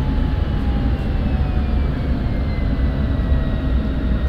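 Steady jet engine roar of an F-16 on landing approach in the DCS flight simulator, a loud continuous low rumble with faint high whine tones, constant throughout with no speech.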